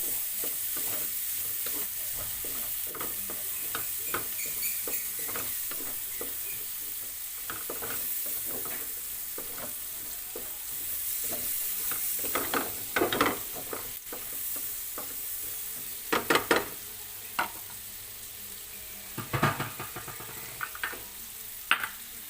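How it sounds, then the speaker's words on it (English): Chopped onion sautéed in a pan for an Indian chicken tikka masala, with steady low sizzling under repeated scraping and stirring strokes that grow louder and sharper in the second half; no talking. "We have to saute our onion until it gets translucent."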